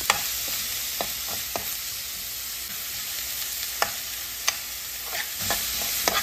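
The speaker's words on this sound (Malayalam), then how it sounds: "ഇനി 2 സവാള ചെറുതായിട്ട് അരിഞ്ഞതും കൂടി ചേർത്ത് നല്ലവണ്ണം ഒന്ന് നമുക്ക് വഴറ്റി കൊടുക്കാം." Finely chopped onions sizzle softly in a pan while being stirred for methi chicken, a steady frying hiss broken by regular light scrapes and taps of a spoon.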